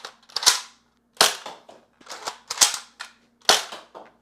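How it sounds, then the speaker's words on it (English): A Nerf Max Force Eagle Eye bolt-action blaster clacks through a series of sharp, loud snaps, about six distinct cracks spaced irregularly, close by with quiet gaps between. "The bolt action prime works, it fires past 20 feet"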